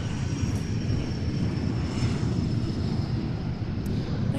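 A plane taxis toward the end of the runway at Boeing Field, a steady droning engine rumble with a faint high whine, heard from a short distance without pause.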